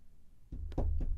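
Knuckles rap on a hollow object to mimic a door knock: three dull, close thuds in quick succession after a quiet moment, with no talk over them.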